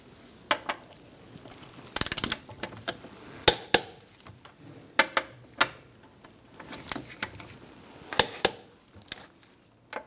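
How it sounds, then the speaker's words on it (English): A torque wrench with a 21 mm socket tightening the wheel nuts on a 2005-2010 Chrysler 300 to 110 foot-pounds, heard as a series of sharp, close ratcheting clicks and metallic snaps in irregular bursts across quiet pauses. "We're going to torque our wheels with a 21 millimeter socket to 110 foot-pounds."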